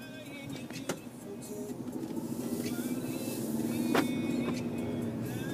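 A Mercedes-Benz C-Class compact sedan pulls away from a stop, its engine note rising gradually and softly over several seconds, heard from inside the car with no voices.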